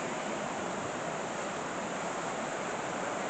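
Aira Force waterfall in Cumbria's Lake District, with its river water, gives a steady, dense rushing roar with no breaks and no voices.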